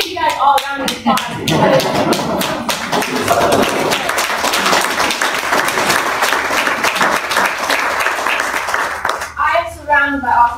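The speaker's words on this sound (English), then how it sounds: "I just want to give you guys all a round of applause." An audience at a talk about growing food claps loudly, with a few sharp nearby claps standing out from the dense applause. A speaker's voice is heard at the start and again as the clapping ends.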